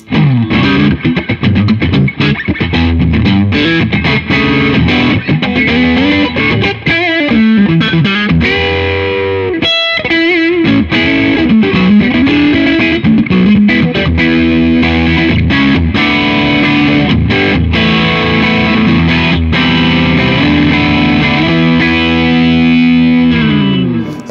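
A Gretsch G6136-55GE 1955 White Falcon electric guitar, heavily distorted on the bridge pickup, plays sustained chords and riffs, loud and saturated with a gritty, buzzing edge throughout.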